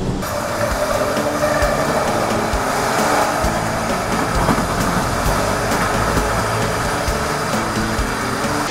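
A Humsafar Express train rumbles along the tracks with a loud, continuous roar and rattling, the wheels clacking faintly underneath.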